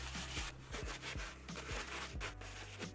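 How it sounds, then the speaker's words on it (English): A brush scrubs the rubber outsole of an Air Jordan 1 Hi '85 Bred sneaker in quick, close back-and-forth strokes, a soft repeated rasping rhythm at low volume. "just give the outsole a really solid scrub"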